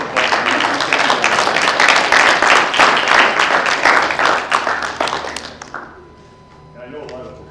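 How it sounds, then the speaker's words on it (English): Audience at an SPCA annual meeting claps for the election workers, a dense burst of handclaps that holds steady for about five seconds, then thins out and fades as a voice starts speaking again near the end. "I think you deserve a round of applause"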